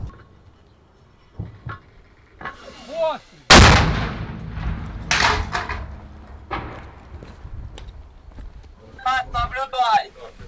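One loud, booming mortar shot close by at the front near Bakhmut, followed by people talking and radio chatter with shuffling movement.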